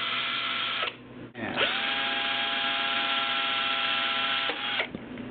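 An electric drill twists a pair of wires together, whirring steadily for several seconds, stopping briefly and spinning up again, a close, high-pitched motor whine.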